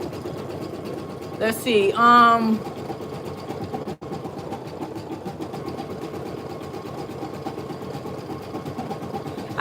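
Embroidery machine sewing a satin stitch border on a patch, a steady fast mechanical whir running throughout, with a person speaking briefly near the start over it.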